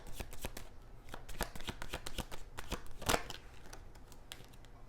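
Tarot cards are shuffled up close in a quiet room, giving a rapid run of crisp riffling snaps and flicks, with one louder burst of card noise near the end. Nobody speaks.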